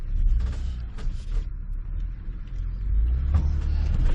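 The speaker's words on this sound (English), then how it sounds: "I'm going to grind this rock, though." Jeep crawling over a rock on an off-road trail at Fantan Lake, Wyoming, giving a low rumbling grind with creaks and scraping, steady and close throughout with no talk.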